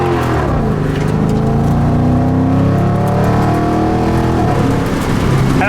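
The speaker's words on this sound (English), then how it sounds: "I guess we're gonna have to drive the Magnum." Dodge Magnum car engine revving up close and loud, its pitch rising and falling in sweeping surges as it pulls away, with no talking over it.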